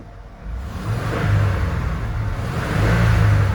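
A 1994 Ford F-250 with a 4.9L inline-six and five-speed sits idling, a steady low engine rumble with a faint mechanical whir that swells slightly in loudness, heard up close with no talking.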